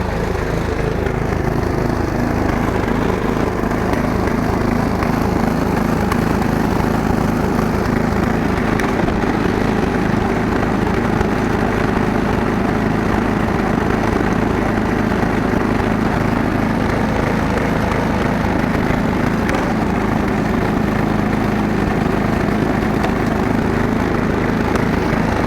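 A snowblower's small gasoline engine, started up for the season, runs steadily at a close, constant drone, its fast rhythmic chugging unbroken for the whole stretch with no voices.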